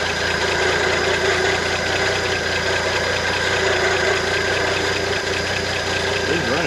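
An International stepside pickup's engine runs steadily at idle nearby, with a continuous mechanical hum and a faint knocking rhythm throughout.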